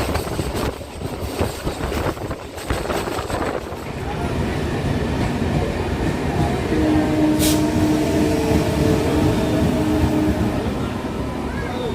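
A passenger train runs on rails after leaving Kopai station near Bolpur Shantiniketan, bound for Rampurhat, giving a steady close rumble that builds and holds, with rhythmic clatter early on.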